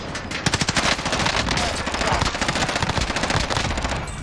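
Rapid automatic hip-fire gunfire from Call of Duty: Warzone, a loud continuous burst of closely spaced shots rattling through the whole stretch.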